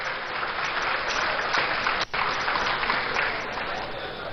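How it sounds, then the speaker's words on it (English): An audience in a university great hall at a meeting with organised labour gives a steady round of applause, moderately loud and continuous, with a brief dropout partway through. "Let's give him a round of applause."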